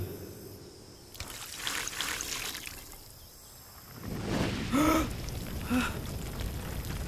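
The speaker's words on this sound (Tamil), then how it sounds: "இப்போ அந்த சூப்பை கறி மேல ஊத்து." Soup is poured over fried mutton set on a rock, making a close trickling, splashing pour that swells midway, with a brief voiced gasp over it.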